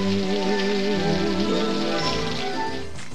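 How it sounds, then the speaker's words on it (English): Steady rain patters on a surface in a film dance and singing scene, a constant wash heard alone under a sustained orchestral accompaniment. "Dancing and singing in the rain."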